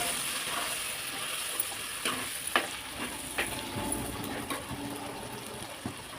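A paste of ground curry leaves sizzles in a pan while being stirred for a curry leaf pickle, a steady soft hiss broken by a few scraping spoon strokes, close and fairly quiet.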